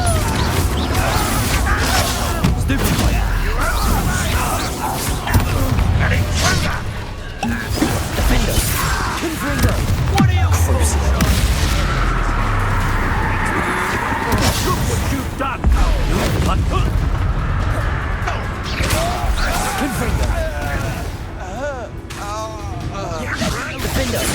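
Confringo fire-spell blasts and crashes in a Hogwarts Legacy duel, loud repeated impacts and whooshes over continuous game music and effects, with a player voice speaking.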